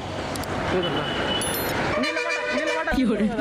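Over road noise and people talking, a loud bus horn blares close by for about a second, then a second short honk follows.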